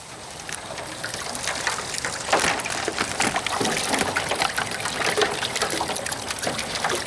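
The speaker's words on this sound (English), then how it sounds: "I'm going to dump my crabs, and my crabs are still alive." Splashing and trickling water with irregular clattering bursts as about 50 live crabs are tipped into cold water, continuing as a busy, close liquid churn.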